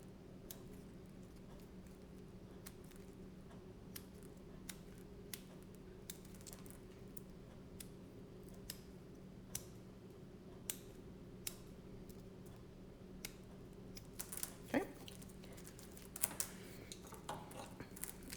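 Scissors snip through a Dollar Tree bath mat in a steady run of quiet, crisp cuts, each a short sharp click over a low background hum, with no talk.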